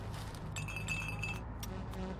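Glass bottles clinking together in the Hobo Tough Life game, a few light chinks and rattles over a low background hum, fairly quiet.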